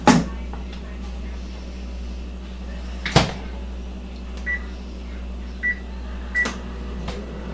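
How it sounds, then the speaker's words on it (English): A microwave door thuds shut, keypad beeps sound three times, then the oven hums steadily with a low drone. "I'm going to put it in the microwave for 30 seconds."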